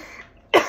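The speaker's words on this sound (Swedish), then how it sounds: "jag har hostat i allt" A single short cough bursts out near the end after near silence, close and fairly loud, from someone with a sore throat.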